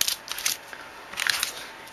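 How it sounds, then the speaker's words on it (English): Scissors snip through paper during a stamping craft project, a few quick crisp clicks in two short bursts, close and fairly quiet with nothing else around. "I take my scissors"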